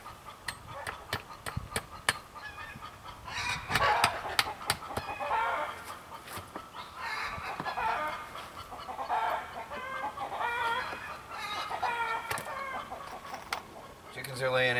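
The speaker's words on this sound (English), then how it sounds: "It's just chickens being chickens." Chickens cluck and squawk around a tiny homestead house, a busy overlapping chorus of nearby hens with sharp calls and occasional crowing, alongside some tapping and faint background sounds.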